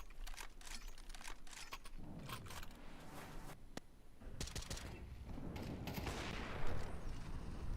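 Gunfire during a Counter-Strike bomb-defuse retake at a professional esports match, with scattered sharp shots and short bursts over steady background noise, intensifying near the end.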